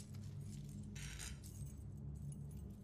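A set of car keys jangles in a brief metallic burst, with a louder shake near the middle, heard over a steady low engine hum inside a car.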